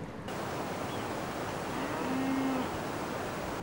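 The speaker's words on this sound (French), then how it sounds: "Tu vois les vaches?" Cows in the countryside give a single low, drawn-out moo from some distance, set against a steady broadband wash of outdoor noise with no one speaking.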